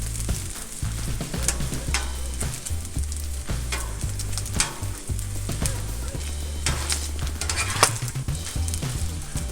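Sausage frying on a Blackstone flat-top griddle during breakfast cooking, a steady close sizzle with occasional spatula scrapes and clinks running the whole stretch, no voices.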